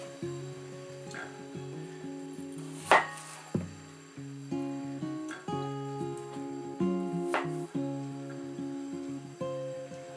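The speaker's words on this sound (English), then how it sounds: "I'm just going to cut these in half, these potatoes, in the skins." A knife cuts unpeeled potatoes in half, giving a few sharp, close chopping knocks on a board over a steady tonal background.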